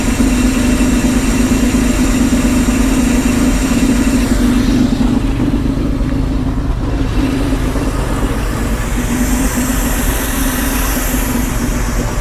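A 1962 Jaguar engine, started after sitting for 15 years, runs loud and close with a rough, steady idle throughout, its note wavering slightly midway.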